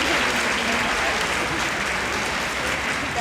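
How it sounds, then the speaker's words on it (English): Audience applause fills a middle school band festival hall, a steady dense wash of many hands clapping at moderate loudness throughout, with no break. "That's a nice round of applause moment."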